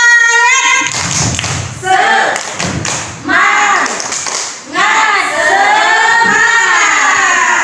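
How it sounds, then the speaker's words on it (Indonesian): Class of students in an Indonesian classroom doing a rhythmic spirit clap, loud grouped claps and thumps in a set pattern mixed with voices chanting along. "Oke, tepuk semangat dulu. Tepuk semangat."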